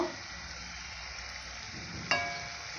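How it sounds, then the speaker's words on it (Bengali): Singara frying in hot oil gives a soft, steady sizzle, and a brief louder crackle rises near the end, close and alone. "এক এক করে উল্টি দেবো আরেকবার ভেজে নেব"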